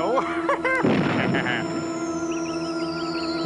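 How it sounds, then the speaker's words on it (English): A cannon fired at a group in a live-action children's adventure show: a loud, close boom with a burst of noise, followed by a sustained high descending whine, with a voice briefly heard at the start. "it's just Tweeg firing his cannon at us"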